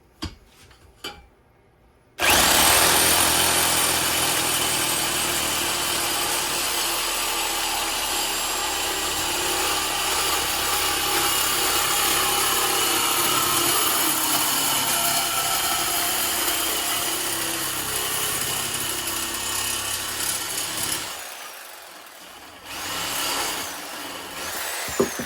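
Power tool cutting into an exhaust pipe on a Whipple-supercharged S650 Mustang, a loud continuous grinding whine that starts abruptly after a quiet moment, runs for about twenty seconds, then trails off.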